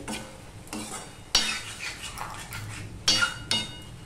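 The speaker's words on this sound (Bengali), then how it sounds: "সম্পূর্ণটা মিশিয়ে নিলাম।" A utensil stirs okra and potato curry in a pan, scraping and clinking against the metal over a soft sizzle. Several sharp knocks stand out close by, with no one talking.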